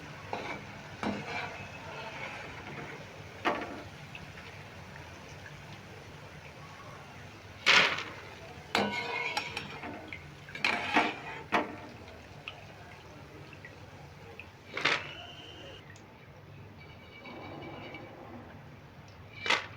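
Boondi, small drops of gram flour batter, frying in a pan of oil, with a continuous soft bubbling sizzle broken by occasional sharper scrapes and clinks of a slotted spoon stirring and lifting them.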